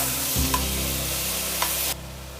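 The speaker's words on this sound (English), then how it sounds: "Again mix it and toss it for 1 minute." Mixed vegetables with sweet corn stirred and tossed in a hot pan for vegetable soup, a short scrape of a spoon over a steady sizzle, then the sizzle cuts off.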